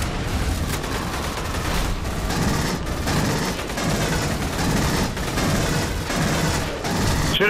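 Sustained rapid gunfire from the Aliens: Colonial Marines co-op campaign on Xbox 360, loud bursts of automatic fire and booms running continuously with only brief dips.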